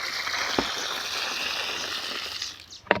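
Water from a bucket, drawn from a well, gushes steadily onto the ground at the base of a tree for several seconds, ending with a couple of sharp splashes and knocks.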